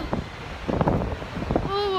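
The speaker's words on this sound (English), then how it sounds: "it feels windy" Gusty wind buffets the microphone at the top of Blackpool Tower, a rough low rumble that swells and drops in irregular bursts. Voices can be heard underneath, and a brief tonal sound appears at the end.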